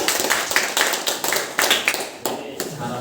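An audience at a class session claps in a brief burst, with irregular sharp claps coming in uneven clusters over about three seconds, fairly close and moderately loud, with some voices mixed in.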